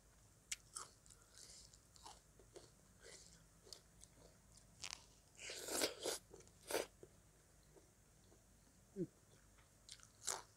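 Crisp crunching bites and chewing from someone eating spicy Thai papaya salad with rice noodles and pickled field crab, close and quiet, in scattered bursts with brief pauses.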